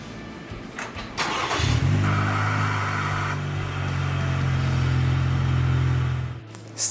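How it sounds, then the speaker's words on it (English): A car with a start-stop engine system cranks briefly and fires up, then settles into a steady, close idle hum before cutting off abruptly near the end, with no talking. "Then start the engine."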